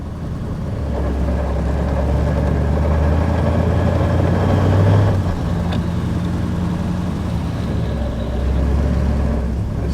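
A Ford flathead V8 engine in a 1937 Ford Model 78 five-window coupe idles with a deep, steady rumble, swelling slightly partway through before settling back.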